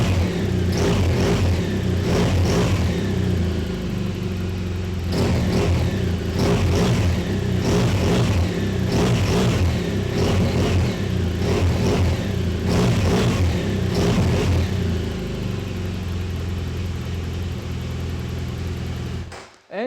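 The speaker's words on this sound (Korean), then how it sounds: "일단 순정 머플러에서 나오는 배기 사운드는 아주 적당합니다." A steady, moderately loud exhaust from the stock muffler of a 2013 BMW R1200GS motorcycle burbles continuously, with rhythmic pulses every couple of seconds as the throttle rises and falls, then cuts off at the end.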